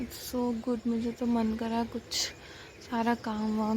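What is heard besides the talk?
No everyday noise stands out behind the speech.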